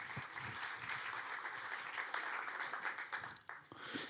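An audience claps steadily and fairly faintly through the clip after a film screening Q&A with the director, with a murmur of voices mixed in.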